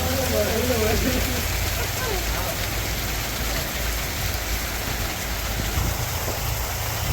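Steady rain pours outdoors during the monsoon, a dense continuous hiss on the ground with a low rumble beneath and a brief voice near the start.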